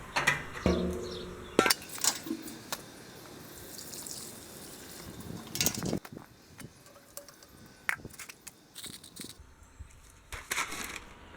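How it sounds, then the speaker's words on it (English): Old square nuts rattle and clatter inside a plugged metal part from a Wheel Horse 704 tractor as it is shaken, making irregular bursts of loud metallic clanking with brief pauses between them. "I'm going to put some junk in it and shake it around"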